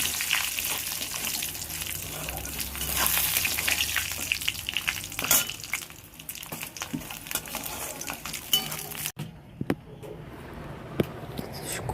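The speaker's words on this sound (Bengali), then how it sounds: "দিয়ে ওর মধ্যে একটু নুন চিনি দিয়ে লাল লাল করে ভেজে তুলে নিলাম।" Chopped coconut fries in oil with salt and sugar, giving a close, crackling sizzle with stirring scrapes that fades sharply near the end, leaving only sparse clicks.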